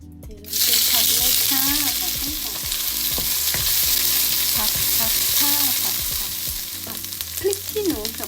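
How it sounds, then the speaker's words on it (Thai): Chili and garlic hit hot oil in a pan for Thai stir-fried basil with mixed mushrooms, bursting into a loud, continuous sizzle with scraping stirs and spatula clacks throughout. "น้ำมันร้อนแล้วนะคะ เดี๋ยวเราก็เอา พริกกับกระเทียมที่ตังไว้แล้วมาผัดลงไปเลย"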